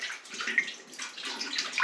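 Cider vinegar, 600 ml, poured from a jug into a pan while making homemade chilli jam, a continuous close liquid splash and trickle lasting about two seconds.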